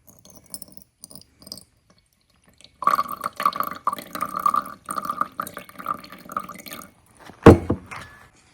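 Thirty milliliters of water poured for a lye-based chemistry experiment: a few faint drips, then a gurgling, splashing pour lasting several seconds, stopping, with a sharp clunk of a container set down near the end.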